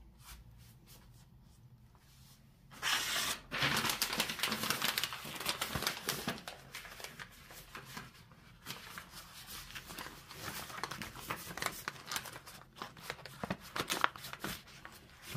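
Paper crinkles and rustles in close, uneven bursts during gold cleaning, steady handling noise with no voices.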